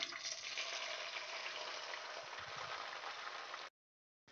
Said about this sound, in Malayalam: ഇനി നമ്മൾ റെഡിയാക്കി വെച്ചിട്ടുള്ള ഈ 3 മുട്ടേൻ്റെ കൂട്ട് ഇതിലേക്ക് ചേർത്ത് കൊടുക്കാം.